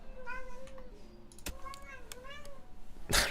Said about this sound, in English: I don't know if you guys can hear my cat meowing.